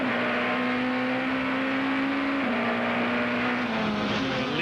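A British Touring Car race car engine in the ToCA BTCC racing game drones at high revs at Thruxton, a steady buzzing tone that dips slightly as the throttle eases off.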